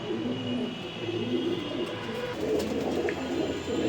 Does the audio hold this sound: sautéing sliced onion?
no